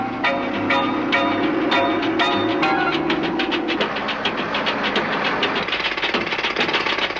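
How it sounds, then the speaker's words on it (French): Jackhammers breaking rock at the Abu Simbel temple site in Egypt, a loud, rapid run of sharp, regular hammer strikes continuing with a slightly shifting pitch and clattering texture. "Les marteaux-piqueurs ne servent qu'à l'extérieur de la taille."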